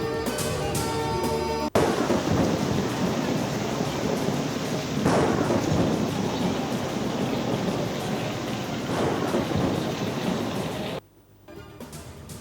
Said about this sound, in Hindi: शहर कायद के मुख्तलिफ इलाकों में गरज चमक के साथ बारिश मुतवक्के